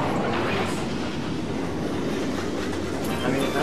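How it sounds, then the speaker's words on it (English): A train rumbles past in the Mario Party 8 board game on the Shy Guy's Perplex Express stage, a steady, dense clatter of rolling wagons filling the whole stretch, with people talking faintly underneath. "where does this train come from?"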